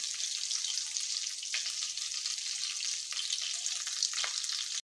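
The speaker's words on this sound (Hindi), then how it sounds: "लहसुन को फ्राई कर लेंगे" Garlic fries in a pan with a steady, close sizzle and crackle, with light stirring scrapes over the hiss before it stops abruptly.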